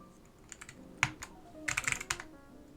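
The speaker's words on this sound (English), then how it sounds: "Oh, those orange Alps sound so freaking good." Keystrokes on a Northgate OmniKey 101 keyboard fitted with orange Alps SKCM switches, a few sharp isolated clacks followed by a quick burst of rapid presses, close and crisp with no talking.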